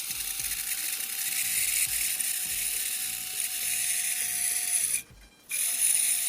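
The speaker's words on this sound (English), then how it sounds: "You want to run your motor to break it in a little bit, because it's just a brushless motor." A brushless electric motor on a Parkzone T-28 model plane runs steadily with a high, whining buzz, close and loud, briefly cutting out near the end before spinning up again.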